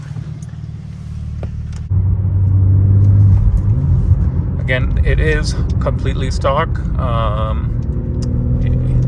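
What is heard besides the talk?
2024 BMW G80 M3 manual engine while driving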